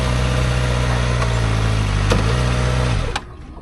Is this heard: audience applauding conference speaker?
no